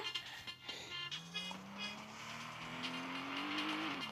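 A new car in a driving video game, its engine tone rising steadily as it accelerates, loud and close with tire noise and no talk.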